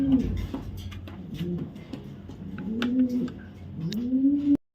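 Racing pigeons from a club loft coo repeatedly in soft, rolling calls, several birds overlapping close by with a steady murmur of wing and loft noise behind them.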